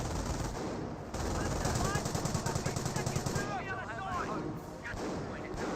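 MG42 machine gun fire in Company of Heroes amid a busy battlefield mix of rapid bursts and artillery, with a commentator talking over the action.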